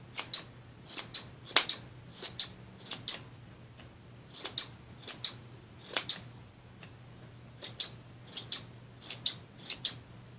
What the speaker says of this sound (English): So we're just going to go around here and trim it off, give it a little haircut.